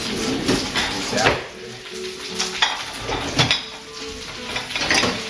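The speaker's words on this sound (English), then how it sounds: "You can put a ton of spinach in a pan and it'll just sizzle down to a little bit." Spinach wilting and sizzling in a pan while eggs are scrambled, a soft steady crackle mixed with clinking pots, utensils and stirring, close and moderately loud throughout.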